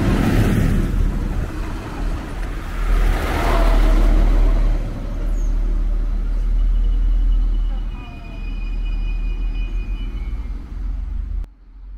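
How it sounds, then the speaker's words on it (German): A Class 642 diesel regional train, the RB 68 from Pirmasens Hauptbahnhof, rolls into Einöd (Saar) station with a deep engine rumble and wheel noise that swells and eases, heard close, ending abruptly. "Einfahrt RB 68 von Pirmasens Hauptbahnhof mit einer Baureihe 642."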